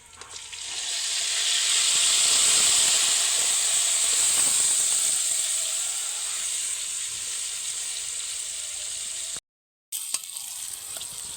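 Marinated chicken hitting a pan of fried ginger-garlic paste, a loud hissing sizzle that swells then slowly settles, close up, with a brief break near the end and no talking.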